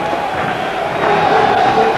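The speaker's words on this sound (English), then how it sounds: "And a big crowd at Easter Road." A big football crowd at Easter Road stadium for a Hibernian versus Celtic league match, a dense continuous roar with rising shouts and cheers, loud and close.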